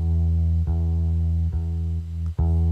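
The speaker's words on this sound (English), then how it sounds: "So the electric bass on its own sounds like this." Electric bass guitar played on its own, sustained deep notes with a few plucked note changes, loud and steady with no voices.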